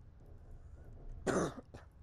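A single rough cough or throat-clear from a person with a cold, close and moderately loud over a faint background hum, followed by a brief smaller catch; no talking.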